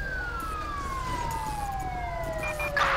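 Wailing police car siren in Grand Theft Auto V, a steady descending electronic tone sustained across the whole stretch, loud and close, with a brief burst of noise near the end.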